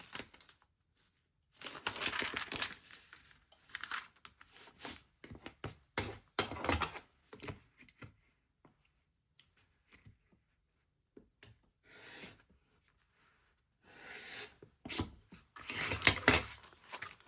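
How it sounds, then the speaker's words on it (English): Foundation paper pieced quilt blocks being trimmed, with bursts of crisp cutting, rustling paper and handling close by, broken up by stretches of near silence and no talking. "I'm going to keep trimming these"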